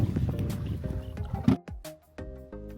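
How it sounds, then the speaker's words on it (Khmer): A boat sets off on the Tonle Sap lake in the rainy season, a low droning motor with faint tonal whine and light water and wind noise, fading briefly before picking up again. "ឥឡូវនេះទូកពួកយើងបានចេញដំណើរទៅសន្សឹមហើយ"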